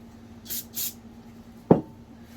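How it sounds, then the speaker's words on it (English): Two short hissing bursts of carburetor cleaner sprayed from an aerosol can onto a shop towel, followed by a soft thump, over a quiet background hum. "Get some Carp's cleaner here. Spray on a napkin, shop towel."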